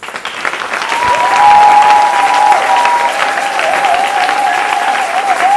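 A church congregation applauds and cheers in praise of God at the close of a prayer service, a dense, steady clapping crowd sustained throughout with a held musical tone beneath.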